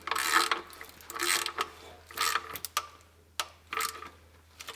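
A ratchet clicks in short bursts while tightening the end bolts of an automatic transmission pan, working outward from the center, with quiet gaps between strokes.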